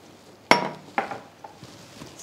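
Rice being stirred in a pot with butter, salt and water added for one-pot Mexican rice: a couple of distinct clinks and scrapes of a utensil against the pot, then quieter faint stirring, fairly close.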